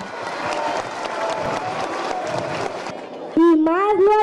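Applause from a crowd greets a governor at a Christmas community event, dense steady clapping filling the first three seconds before fading, followed by a voice speaking loudly over a microphone.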